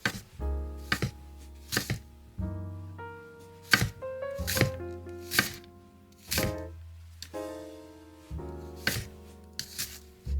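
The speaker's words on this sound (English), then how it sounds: "we're going to use half of it and just slice it up" A knife slices half an onion on a cutting board, giving a series of sharp, close chops at an irregular pace, some in quick pairs, with no talk.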